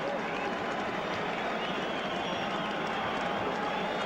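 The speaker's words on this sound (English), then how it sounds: "As the people on that stand side of the ground stand to applaud Martin O'Fire, his 5th try" Rugby league crowd at a Widnes versus Warrington match applauds a fifth try, a steady wash of clapping and crowd noise filling the ground, distant and continuous throughout.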